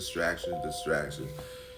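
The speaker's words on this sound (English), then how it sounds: "the phone had to chime on that" A phone notification chime rings out as a sustained bright tone that starts partway in and holds to the end, sounding beneath continuous talk.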